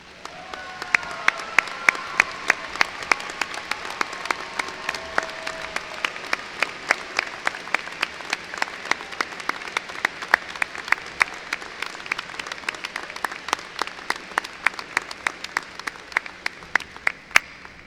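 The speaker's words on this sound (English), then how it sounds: "our graduates may show their appreciation by a round of applause" Sustained round of applause from graduates at a university undergraduate commencement ceremony, a dense steady patter of many hands filling a large hall for nearly twenty seconds with no talking.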